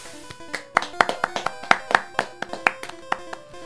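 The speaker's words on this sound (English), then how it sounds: "I applaud myself." A single person claps by hand in a steady run of about a dozen close, crisp claps over game music, with no talking.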